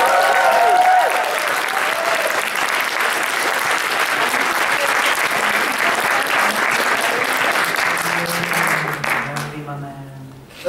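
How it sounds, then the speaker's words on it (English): A convention crowd at Kitacon 2012 applauds a guest speaker with loud, dense clapping that holds steady for about nine seconds before quickly dying away, and a voice briefly begins speaking at the very end. "I want you guys to give her a massive round of applause"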